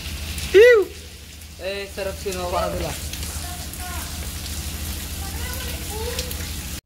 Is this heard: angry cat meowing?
no